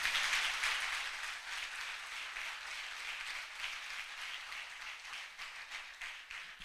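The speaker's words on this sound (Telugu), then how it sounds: "చప్పట్లు కొడదాం ప్రభుకి ఒకసారి" A congregation at a youth retreat applauds together, a sustained, fairly distant patter of many hands clapping that swells at the start and slowly tapers without any talk over it.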